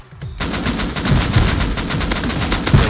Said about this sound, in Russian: слышу, тут еще дохрена людей стреляется